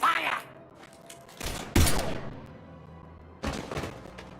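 Gunfire in the video game Mass Effect 3 comes as several short bursts of shots with thuds, separated by quieter gaps.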